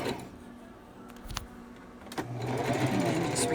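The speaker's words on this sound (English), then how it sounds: "I'm going to go ahead and sew and try to videotape with one hand here." A sewing machine stitching pleats into fabric masks, a brief stop-start at first, then a steady close whirring run of stitching.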